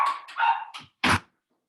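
Dogs are led out of a room: a brief burst of whimpering yips and a short sharp bark, close and fairly loud, followed by silence.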